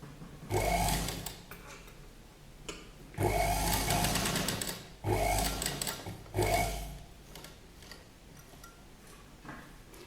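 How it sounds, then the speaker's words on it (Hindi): Sewing machine stitching a collar onto a neckline, running in four short bursts of steady whirring with brief pauses between, close and clear, with no talking. "यहाँ से ये साइड पर हम सिलाई लगाएंगे यहाँ तक।"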